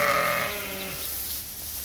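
A sheep on a farm gives a single short, close bleat that fades within about a second.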